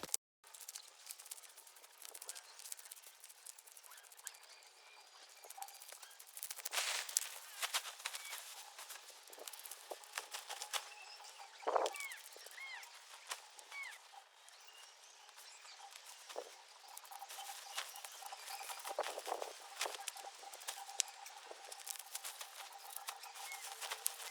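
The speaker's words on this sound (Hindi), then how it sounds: "फिर से थोड़ी थोड़ी बारिश हो रही है" Light rain patters steadily on a tarpaulin in a rural hillside setting, a soft continuous crackle of scattered drops with a few slightly louder taps, close but gentle.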